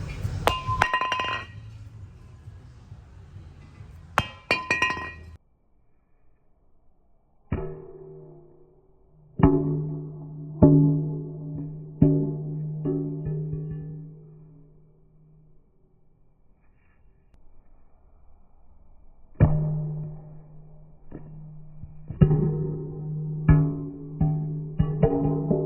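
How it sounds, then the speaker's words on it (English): A heavy metal brake rotor is dropped repeatedly onto the steel toe of an indestructible work shoe, each impact ringing out as a loud metallic clang with a sustained tonal ring, in separate bursts with quiet gaps between. "Next test we're gonna do is the infamous rotor, dropping the rotor on the toe."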